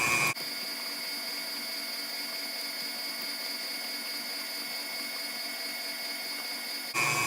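Electric mixer whirring steadily at a higher speed through sweet potato pie filling with brown sugar, a constant close motor whine with bright harmonic tones, starting and stopping abruptly.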